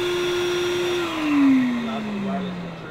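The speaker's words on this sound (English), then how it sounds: "also a Bluetooth tool that will also wirelessly communicate with the vacuum cleaner and start up the moment that you hit the switch" A Makita 18V cordless vacuum cleaner starting up as a paired Bluetooth grinder is switched on: a steady loud motor whine that dips in pitch partway through and keeps running, close and alone.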